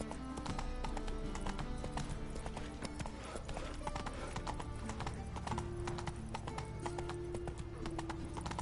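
Hooves of Roach, Geralt's horse in The Witcher 3: Wild Hunt, clop in a steady continuous rhythm under a layer of game music and ambience, close and even in loudness.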